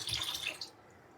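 A short splash of water poured off millet (bajra) while it is being washed, close and lasting under a second before fading to quiet, with no voices.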